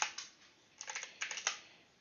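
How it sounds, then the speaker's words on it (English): Quick typing on a computer keyboard, one isolated keystroke followed by two short bursts of close, clicky keypresses in a quiet room. "I'm typing up something for somebody real quick"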